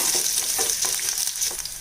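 Unpeeled crushed garlic frying in oil with a loud, dense sizzle, and the crackle shifts as it is stirred, close up throughout.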